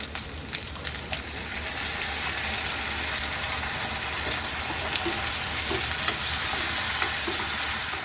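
Tomato paste frying with onion, ginger and garlic for a Bengali banana blossom curry, a steady close sizzle with faint scraping throughout and no talk.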